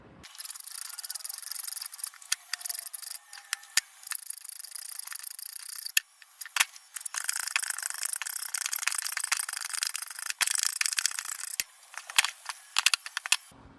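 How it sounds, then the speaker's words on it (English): A metal file scrapes along the edge of a brake rotor from a 1967 VW Type 3 Squareback, cleaning up a line before painting; close, bright rasping strokes repeat in uneven bursts with short pauses, no talking. "Now I'm going to use my file to get a clean line along the side"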